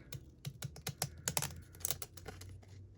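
Scissors snip through paper in a quick series of crisp, close clicks, pausing briefly before a few final cuts.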